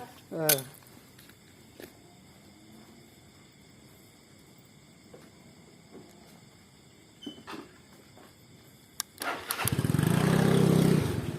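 A small vehicle engine, likely a motorcycle, turns over and catches near the end, rumbling steadily close by after a stretch of faint handling clatter and scattered knocks outdoors.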